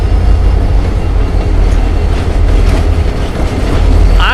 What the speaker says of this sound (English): Here comes the bouncy locomotive.